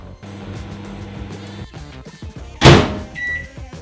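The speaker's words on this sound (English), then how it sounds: "I'm going to chuck it in the microwave for 90 seconds." A microwave oven hums steadily for about a second and a half while warming a cup of coconut oil, then clicks off, followed by a loud thunk of its door opening and a brief high beep.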